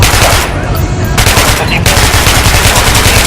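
Rapid automatic gunfire in the video game Metro: Last Light Redux on PS4, aimed at an armored enemy, a very loud, dense burst of shots that runs almost continuously, with only a few short breaks, and no talking.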